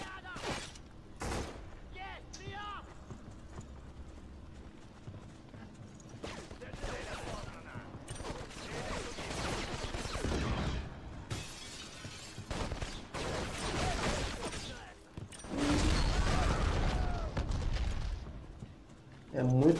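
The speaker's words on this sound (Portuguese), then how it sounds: "É muito barulho, é muito tiro" Heavy gunfire erupts in the PS2 shooter Black: sharp shots and dense bursts of automatic fire, with loud, crashing blasts swelling in waves over the stretch.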